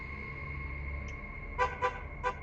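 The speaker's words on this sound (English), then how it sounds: "there is an unexplained honk. It looks like it comes from the car in the driveway" Three short, faint car horn toots sound in quick succession at a distance from a car parked in a driveway, over a steady low background hum.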